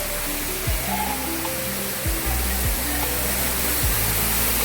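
Continuous rushing roar of a waterfall beside the Rudreshwar temple among hills, loud and even from start to finish, with a few brief low thumps and no voices.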